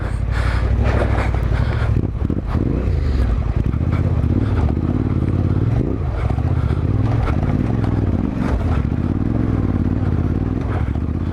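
A Yamaha Ténéré 700 on Dunlop D908 Rally Raid tires rides along, engine droning low and loud under heavy wind buffeting on the microphone, with rattling and clattering from rough ground throughout.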